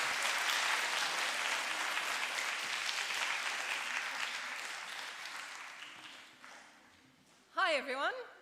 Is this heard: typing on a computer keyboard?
no